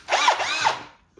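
Cordless battery drill revving in two short whirring bursts with rising and falling pitch, loud and close, followed by a brief pause and a faint start of another sound.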